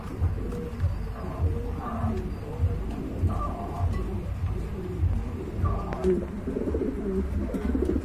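A pair of white pigeons coo repeatedly in short, low throaty phrases over a steady, dense background of other birds and ambient noise, with no voices breaking in.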